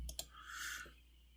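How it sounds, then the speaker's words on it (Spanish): Two quick computer mouse clicks open an Excel shortcut, sharp and close in an otherwise quiet room. "vamos a iniciar dando clic desde el acceso directo"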